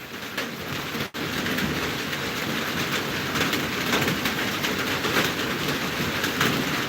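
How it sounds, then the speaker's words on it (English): Steady rain falling on a homestead, a dense, constant hiss close by, with one brief dropout partway through and no talking. "The rains are really giving me a hard time, a very hard one."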